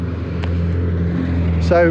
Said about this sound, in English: there's another car coming around now